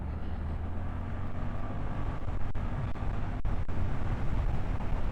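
Suzuki GSX-8S motorcycle rolling on the throttle in third gear on a road, a steady low engine drone with wind rush building gradually, continuous and fairly loud from the rider's position.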